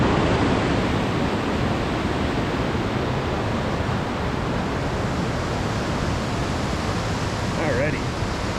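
A waterfall pours in a steady, dense broadband roar that stays loud and unbroken throughout, with no voices on top.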